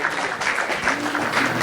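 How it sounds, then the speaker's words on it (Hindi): A church congregation at a Christian sermon claps loudly in praise of God, a dense, steady burst of applause from many hands close by. "जोर से ताली बनती है हमारे परमेश्वर के लिए"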